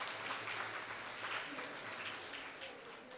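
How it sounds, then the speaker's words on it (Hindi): Faint, steady applause from an audience at a government girls' higher secondary school in Barmer as two students come forward, continuous clapping heard from a distance and fading slightly toward the end. "इनके लिए जोरदार ताली बजनी चाहिए"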